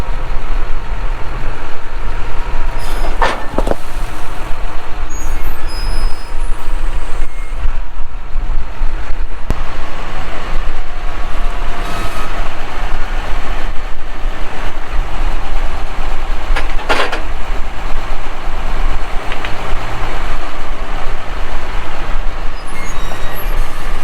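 A tractor hauls large rocks across a farm field toward a bin, its engine droning loud and steady for the whole stretch, with occasional knocks and rattles from the load.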